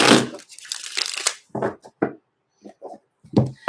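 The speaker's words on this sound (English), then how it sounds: "that deck is way too big for me to shuffle it all together. So I have to shuffle them in half" A large deck of cards shuffled in halves, giving bursts of riffling, flicking rustle separated by short pauses and a few quieter paper taps, close and alone.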